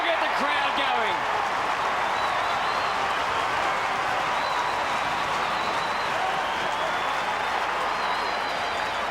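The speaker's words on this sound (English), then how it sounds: "That'll get the crowd going." The crowd at an Australian football match at Skilled Stadium roars steadily and loudly for the whole stretch, and a commentator's voice is briefly heard at the start.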